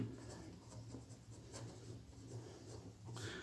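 Faint, steady scratching of writing on a board during a class 8 mathematics lesson, a soft continuous rub with no voices.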